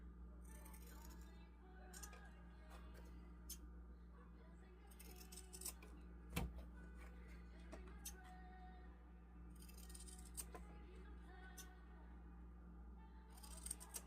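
Scissors snip through quilt fabric at a sewing table, soft irregular cuts and light clicks spread throughout, quiet against a constant low room hum.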